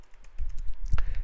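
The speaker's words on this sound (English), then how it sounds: "let us type the command, that is nano" Typing on a computer keyboard while entering a nano command on Arch Linux: a short burst of soft, close key taps, a bit uneven, with one slightly louder stroke near the end.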